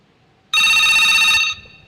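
A telephone rings loudly and close with a single bright electronic ringtone burst that lasts about a second before cutting off, set against a quiet room during a live call-in broadcast.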